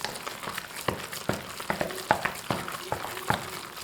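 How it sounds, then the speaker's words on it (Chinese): Minced meat mixed with two eggs is stirred in one direction in a bowl for fried meatballs. Wet slapping strokes repeat in a fairly regular rhythm, close and moderately quiet, with no talk. "打入2颗鸡蛋， 顺着一个方向给它搅拌均匀"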